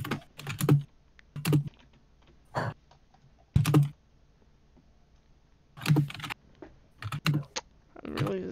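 Bursts of computer keyboard typing arrive in short clusters separated by pauses, close and fairly loud, with a voice speaking briefly between them.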